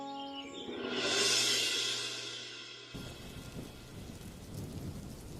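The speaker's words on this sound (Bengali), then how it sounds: "বৃষ্টি তো বাড়ছে মনে হচ্ছে ঝড় বৃষ্টি হতে পারে" A cartoon thunderstorm effect: a loud rolling thunder swell fades into steady, heavy rain that keeps falling to the end, with no voices.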